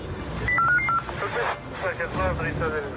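A phone keypad sends a quick series of dial tones as a call is placed to the 112 emergency line. The beeps sit under a voice speaking over them.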